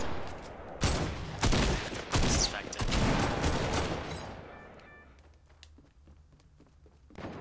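Silenced pistol gunfire in Fortnite comes as several sharp bursts close together early on, then tails off into fainter footsteps and game ambience.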